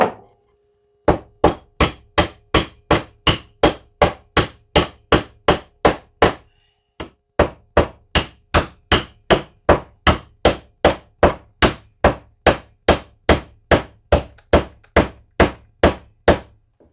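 Hammer pliers pound steadily while an electrical outlet is mounted to a 2x4, about thirty sharp, close knocks in a fast even rhythm with one short pause partway through.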